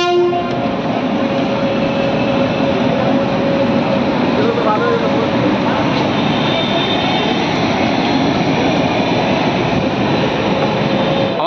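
The Sahibganj–Howrah Intercity Express arrives at Pakur station in Jharkhand. A loud, continuous rumble of rolling carriages runs throughout, with a steady horn-like tone and faint clatter, recorded from on board.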